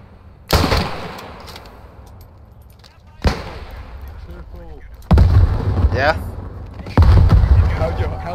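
A WW1 German sniper rifle fires in the video game Beyond The Wire: four loud, sharp shots spaced a few seconds apart, each with a long reverberant tail, while voices are heard faintly between them.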